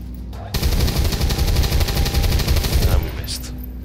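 Sustained automatic gunfire from the XCOM 2 video game, a dense rattling burst running about two and a half seconds at close range, loud and alone, then cutting off into quieter game ambience.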